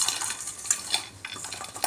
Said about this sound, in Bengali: পকোড়াগুলো হয়ে গেছে, এবার তুলে রাখছি